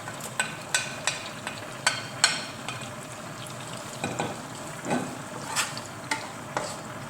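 Spring onions, fresh pepper and vegetables frying in a pan for watermelon rice, with a steady sizzle broken by a series of sharp stirring clicks and scrapes of a utensil against the pan, close up and without talk.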